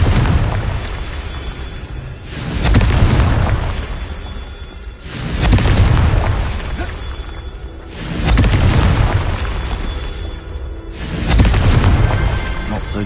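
Fiery blasts of the Confringo spell in the Hogwarts Legacy video game boom four times at steady intervals of roughly three seconds. Each is a loud, deep swell that fades before the next.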